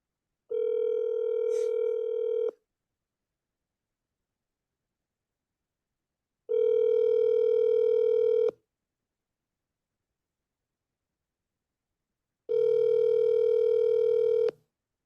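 Telephone ringback tone on an outgoing live call: three loud, steady electronic tones about two seconds long, spaced by roughly four seconds of silence, with no talking.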